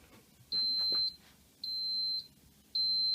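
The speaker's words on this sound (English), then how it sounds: "So it's a beep 3 times." A Sharp XE-A102 cash register powering on gives three evenly spaced, high-pitched electronic beeps, each about half a second long, close up in a quiet room.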